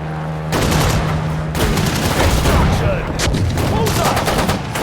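Dense, loud battlefield gunfire in the World War II strategy game Sudden Strike 4, rapid machine-gun bursts and booming shots overlapping continuously.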